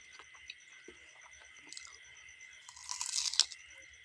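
Close, quiet chewing and wet mouth sounds of someone eating rice with watery lentil dal and fried masoor dal fritters, soft crunches and squishes scattered over a faint background hum.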